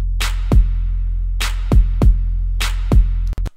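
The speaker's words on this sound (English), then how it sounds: "this pusher, which is another Kush Audio plugin, which is great because it emulates tape distortion" Drums driven through Kush Audio Pusher tape distortion plugin: a heavy booming kick with deep sustained low end and saturated snare hits, repeating in a steady loop of about three strokes, loud and alone.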